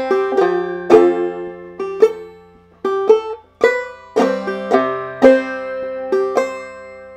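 Clawhammer banjo plays the opening measure of the tune Snowdrop, bright plucked notes with a sustained drone string, clear and close, in an unhurried rhythmic phrase with no talk.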